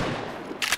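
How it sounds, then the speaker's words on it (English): A single shotgun blast in the survival game DayZ, one short loud bang after a moment of quiet game ambience. "Oh my god, this shotgun sucks."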